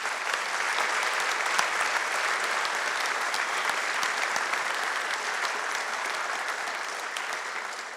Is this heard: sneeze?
no